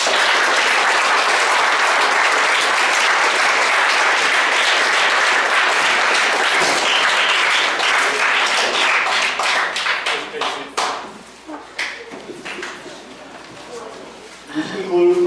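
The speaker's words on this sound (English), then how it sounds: "Give these guys a round of applause." An audience at a Boy Scout troop Court of Honor ceremony claps loudly and steadily, then the applause thins to scattered individual claps and fades toward the end, with some voices heard.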